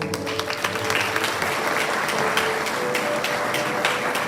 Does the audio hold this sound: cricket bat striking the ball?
no